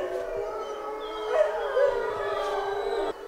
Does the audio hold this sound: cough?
no